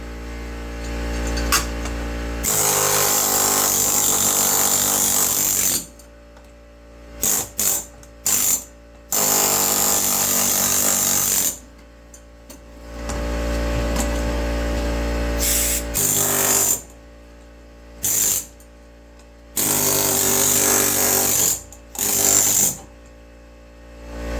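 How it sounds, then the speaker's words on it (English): Power tool scraping up old floor covering in loud, close bursts of harsh rattling and hammering, repeatedly stopping and restarting with short silent gaps between. "I'm going to press onto the floor down here, and we're going to peel some of that up."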